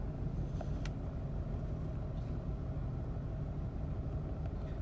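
Car engine idling roughly at low revs, like an old carbureted car, a steady dense low rumble with slight unevenness and no speech, heard from inside the car.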